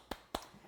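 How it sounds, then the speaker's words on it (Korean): Two sharp, close hand claps, about a quarter second apart, ring out in a quiet room during an accounting exam lecture, each one crisp and short with a faint tail. "박수."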